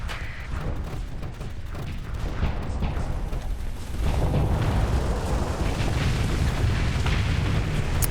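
Missile explosions in a space combat video game: dense, continuous booming and rumbling bursts that swell louder around the midpoint and stay heavy to the end, with no talk.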